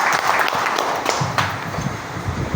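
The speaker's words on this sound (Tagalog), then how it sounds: "bigyan po natin ng malakas na palakpak, si Mama Liway Susar" A crowd at a provincial and municipal gathering applauds, a dense wash of clapping with a rushing, slightly wind-buffeted quality, with some voices under it.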